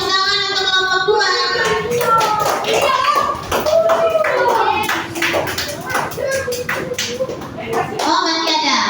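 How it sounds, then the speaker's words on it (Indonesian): Primary school pupils in a classroom clap for a student group in a lively, uneven patter of hands, while children talk and call out loudly over the clapping. "Oke, tepuk tangan untuk kelompok 2."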